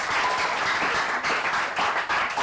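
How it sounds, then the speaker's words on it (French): Audience at a live studio show applauding loudly and steadily, dense continuous clapping that holds for the whole stretch with slight dips in intensity. "Est-ce qu'on peut applaudir très fort pour..."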